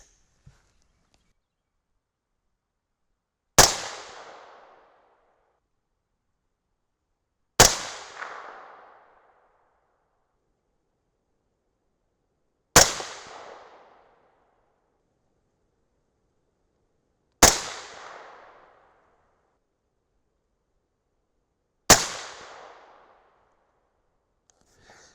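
Five .223 Remington rifle shots firing 62-grain Hornady BTHP bullets over H4895 and AR-Comp powder, each a sharp loud crack with a short decaying tail, evenly spaced several seconds apart against near silence.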